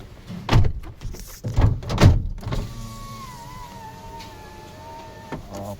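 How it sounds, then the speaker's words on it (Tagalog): Solid thunks of a Nissan Almera car door being pulled shut, a few heavy closing impacts in quick succession, followed by a quiet electronic whine and faint cabin hum. "sara mo nga yung pinto"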